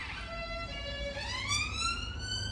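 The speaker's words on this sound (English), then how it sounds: "excuse the sirens" A wailing emergency siren rises and falls in pitch, moderately loud and somewhat distant, over a steady background hum.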